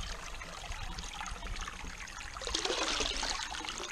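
Cold brook water pours into a camp coffee pot outdoors, a continuous trickling gurgle that grows louder and brighter toward the end as the pot fills, with no talking.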